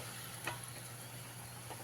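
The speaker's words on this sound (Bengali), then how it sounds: "এইভাবে ব্যাচ ওয়াইজ কোপ্তাগুলো আমি ভেজে নেব" Bottle gourd koftas fry in hot oil, giving a steady, soft sizzling hiss with a faint clink or two and no talking.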